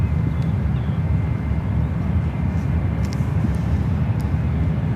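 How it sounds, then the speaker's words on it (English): British Airways Airbus A380 passing directly overhead at San Francisco airport, a loud, steady low engine roar that holds evenly the whole time, with a few faint clicks over it and no speech. "A380 Super flying directly above us here."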